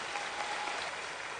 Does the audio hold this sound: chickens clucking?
no